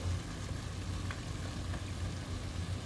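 Ground beef with added ginger and garlic sizzles steadily in a pan, a continuous low frying hiss with faint scattered crackles and no voices.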